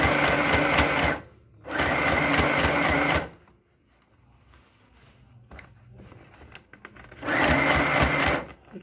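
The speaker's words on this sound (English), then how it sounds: "I'm double stitching the part." A sewing machine double-stitches a blouse collar in two loud, steady bursts of rapid stitching, then pauses with faint handling noises before a third burst starts.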